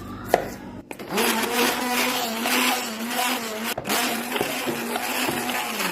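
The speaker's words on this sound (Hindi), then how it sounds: "यहाँ पर ये देखिए ब्लेंडर की मदद से सारे क्रिस्टल इसके टूट चुके हैं" A hand blender whirs loudly and steadily, with a brief cut-off partway through before the motor buzz resumes.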